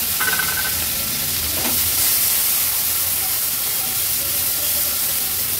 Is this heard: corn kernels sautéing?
yes